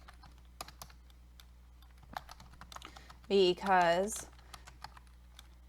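Computer keyboard keys are typed in light, scattered clicks, fairly close and quiet, with a short burst of spoken voice partway through.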